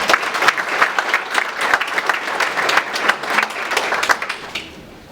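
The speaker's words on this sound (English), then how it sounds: "Please give him a round of applause." An audience at a school event claps for a middle school principal, a lively burst of many hands that holds steady, then thins and fades out toward the end.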